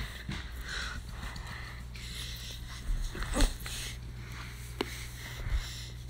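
A playful puppy makes soft snorts and breathy whines close by during a game of fetch, with a few brief louder bursts over a steady low hum.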